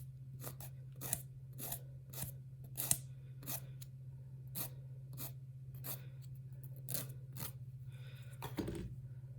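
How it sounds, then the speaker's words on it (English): A fingernail being filed and reshaped during a salon nail application, heard as quiet, evenly spaced rasping strokes repeating roughly twice a second over a faint steady hum. "I'm gonna reshape this one just a tad so it's a little straight,"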